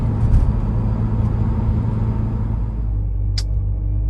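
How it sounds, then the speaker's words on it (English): A supercharged 1990 Porsche 928 S4 engine, fully warmed up, idles with a steady low rumble, continuous and even throughout, with no voices over it. "Engine is all warmed up. You can see everything is just idling just super nicely."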